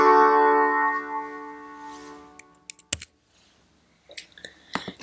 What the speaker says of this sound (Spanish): Lo normal es que un acorde de dominante vaya a un acorde de tónica